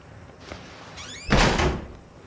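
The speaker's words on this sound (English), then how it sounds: "So the only way to close a door is by slamming it shut." A door slams shut in the horror game Outlast, preceded by a brief creak as it swings, then one loud, sharp bang that fades quickly, heard alone.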